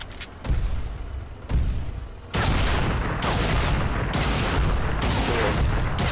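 Gunfire in the VR game The Brookhaven Experiment, a series of loud, booming shots in rapid succession over a dense, rumbling background of game noise.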